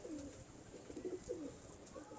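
Pigeons coo softly in repeated low, rolling calls, a few phrases in close succession at fairly faint level over quiet background noise.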